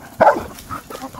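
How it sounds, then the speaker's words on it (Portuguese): A dog on a farm gives a single sharp bark up close, followed by a couple of softer yips or whimpers trailing off quickly. "E a Mel latindo,"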